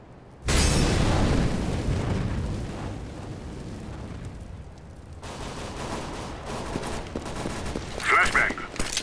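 Molotov fire grenade in Counter-Strike: a sudden loud whooshing burst of flames that settles into a sustained roar and crackle, with a brief gameplay voice-line near the end.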